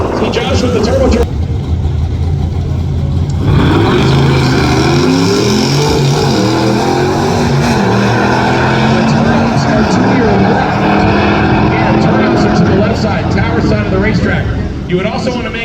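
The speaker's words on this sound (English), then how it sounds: "See Josh with the turbo truck." A turbocharged pickup truck drag races at Tulsa Raceway Park, its engine roaring loud and close with shifting, strained tones and tire noise, and a raceway announcer talks over it throughout.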